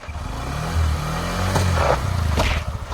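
A motorbike riding up close by, its engine droning low and steady for about three seconds with a slight swell in revs partway through.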